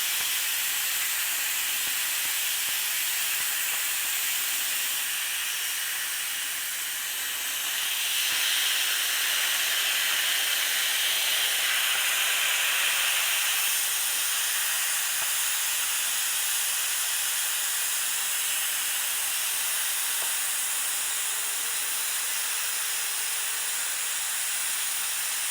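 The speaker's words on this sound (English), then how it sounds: "I'm just going to do a quick release of the steam, of the pressure." Steam blasting steadily from the valve of an Instant Pot pressure cooker on quick release, a loud, continuous hiss that lasts throughout with a brief surge in intensity partway through.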